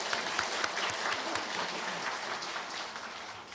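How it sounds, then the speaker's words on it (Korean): A church congregation applauds during a Christmas service, steady clapping from many hands sustained for several seconds at moderate distance, fading slightly toward the end. "다시 한번 영광의 박수 올려드리겠습니다."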